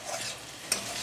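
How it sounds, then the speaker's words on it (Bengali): Tomato dropped into a hot oiled pan gives a brief sharp sizzle burst amid a steady, moderate frying hiss, with no talking. "টমেটোটা দিয়ে দিচ্ছি"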